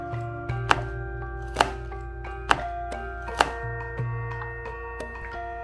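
Sharp, evenly spaced chopping thuds, about five or six over a few seconds, with a steady motor hum beneath, close and moderately loud, as an electric food chopper chops onions.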